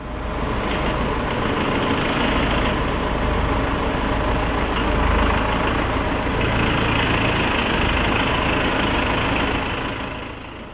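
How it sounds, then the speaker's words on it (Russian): A garbage truck pulls into a residential courtyard through an archway, its heavy diesel engine rumbling loud and steady for the whole stretch, with broadband noise and no speech. "когда в арке двора появляется мусоровоз."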